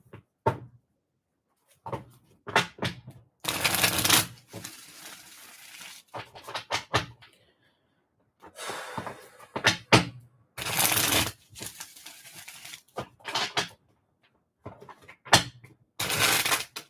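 Tarot cards are shuffled close by in repeated riffling bursts, each lasting about a second or two, separated by brief pauses, with no talking.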